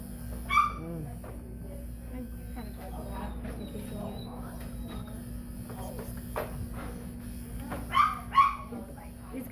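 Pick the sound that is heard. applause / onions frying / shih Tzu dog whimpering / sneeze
shih Tzu dog whimpering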